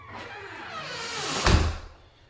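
A cabinet door under the sink swings shut, a soft rising swish that ends in a single low thump, close and alone.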